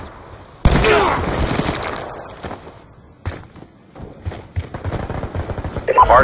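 Video game gunfire in a Hardpoint match rattles out in loud, rapid bursts with heavy thumps, while voices talk over the shooting.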